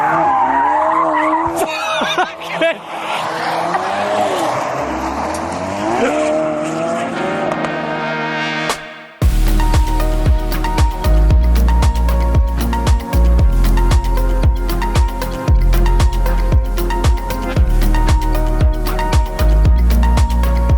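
A Ford Focus RS revs hard with its tyres skidding, a loud whining squeal that wavers for about nine seconds, then cuts abruptly to a punchy, rhythmic pulsing roar.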